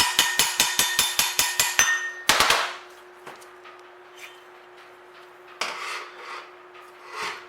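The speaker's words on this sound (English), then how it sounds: "Taps of the hammer should get that out" A hammer taps on a Chevrolet straight-six distributor housing being restored. About ten quick, sharp metallic raps come in an even rhythm, then a louder clang, followed by a few scattered lighter knocks with pauses between them.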